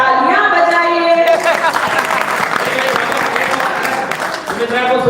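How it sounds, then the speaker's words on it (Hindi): Audience applause at a Hindi poetry recital (kavi sammelan) in Singoli, loud continuous clapping that follows the end of a sung verse, with a voice talking over it toward the end. "गीत खत्म, तालियां बजाइए।"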